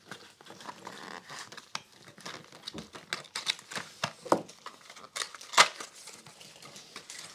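A wrapped chocolate is cut open at close range, with steady crinkling and snipping of the wrapper in irregular bursts and no talking.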